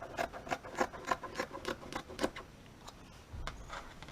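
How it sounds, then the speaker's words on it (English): Scissors snip through mask fabric in a quick run of about ten crisp, rhythmic cuts close by, then a pause and a soft rustle of the cloth being handled. "I'm going to use my scissors"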